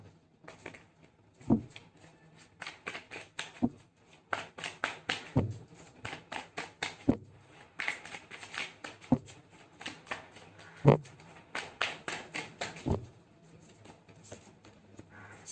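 Tarot cards are shuffled and pulled, giving soft, irregular slaps and riffles, close and fairly quiet, with no talking.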